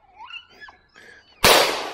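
A single loud, sharp pistol shot cracks out close by near the end, preceded by a few faint, brief voice-like sounds at an outdoor gun-shooting gathering.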